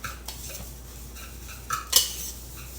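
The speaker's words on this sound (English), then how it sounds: "We'll whisk that all together well." Whisk scraping and clinking against a bowl while mixing flour, brown sugar and rolled oats, soft stirring strokes with a few light taps and one sharper metallic clink, fairly quiet and close.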